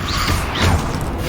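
Confringo blasting spell in Hogwarts Legacy, a short whooshing burst followed by a muffled crashing thud, loud and close.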